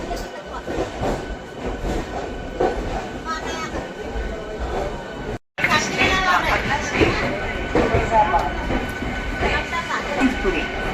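MEMU passenger train pulling out of Tundla Junction after an overtake, its steady rolling rumble and rail clatter running throughout with a brief dropout midway; voices talk over it.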